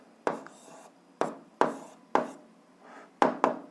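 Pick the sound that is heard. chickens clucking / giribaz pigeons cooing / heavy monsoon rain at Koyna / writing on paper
writing on paper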